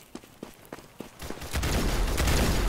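Gunshots in the Roblox shooter Arsenal: a handful of sharp single shots spaced about half a second apart, then a louder, denser stretch of rapid firing that fills the final second.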